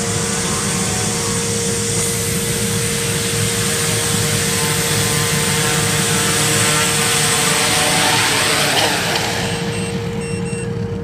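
A multirotor drone with a Hoverfly Pro flight controller flies nearby, its propellers giving a loud, sustained, steady buzzing drone with a constant whine over the whole stretch.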